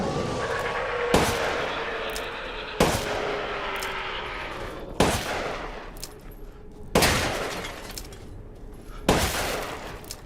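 Five loud magnum gunshot blasts in Resident Evil Village, spaced roughly two seconds apart, each with a sharp crack and a ringing decay, over a low background hum.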